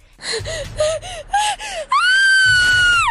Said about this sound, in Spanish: obre el lánguido y sangrante cuerpo de Emma, mientras ella estaba ahogada en un grito de dolor,